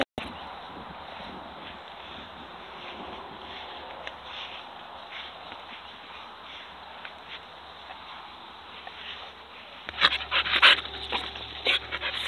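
Catch dogs from a live-action hog-dog pack pant steadily and close by, with a louder burst of panting and whimpering near the end.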